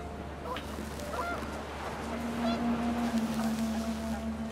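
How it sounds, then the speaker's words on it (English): Geese in the video game What Remains of Edith Finch honk in a panic as wind picks up. Several calls come from the middle distance over a steady low hum, and there is no talk. "The wind picked up, and panicked geese appeared and quickly went."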